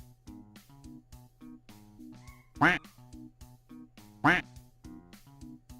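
A cartoon duck quack sound effect sounds twice, each quack loud and sharp above an underlying musical backing with a steady beat.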